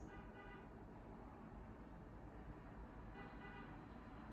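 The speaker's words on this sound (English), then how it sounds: "I don't know what's going on with that car honking" A car horn toots a few times at a distance, faint and muffled under steady traffic rumble and road noise.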